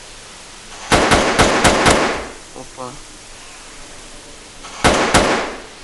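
Sharp gunshots in a zombie apocalypse video game: a quick run of about five cracks, then a pause with soft clicks, then two more shots. A voice speaks briefly between them.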